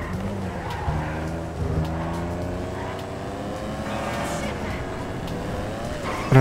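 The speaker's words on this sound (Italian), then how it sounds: "Vai, vai Franklin, falla volare sta macchina." A car in the video game GTA 5 revs hard and accelerates, its engine tone climbing in repeated rising sweeps, with tire squeal and skidding mixed in and someone talking over the gameplay.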